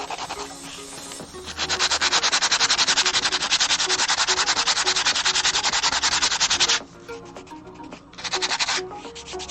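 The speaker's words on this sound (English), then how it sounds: "I'm going to try to put pink on here, but I'm going to smooth it out and see if I can get it to be a smooth pink." Pink colored pencil rubbed back and forth on black hoodie fabric, a steady rapid scratchy rasp of strokes, close and fairly loud, pausing briefly before resuming.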